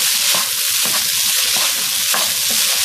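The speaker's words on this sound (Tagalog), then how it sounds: "Tapos haluin. Haluin lang yan, init ng init." Fried rice being tossed in a very hot pan, a loud continuous sizzle with rhythmic scraping strokes of a spatula, close up with no talking.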